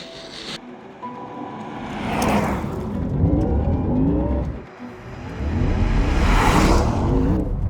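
A 2025 Porsche Taycan Turbo GT electric sports car accelerating hard twice, a rising electric whine and rushing road noise swelling, dropping briefly, then surging again, close and loud.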